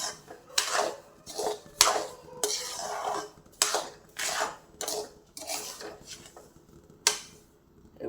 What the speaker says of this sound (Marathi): आता रवा मंद गॅसवर भाजायचा बारीक रवा आहे